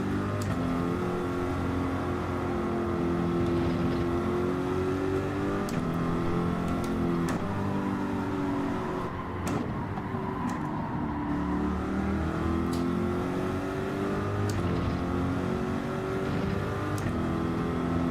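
A Corvette GT3 race car engine in Gran Turismo, a steady droning roar held at high revs with slight pitch shifts as it laps Autopolis, continuous and alone with no talk.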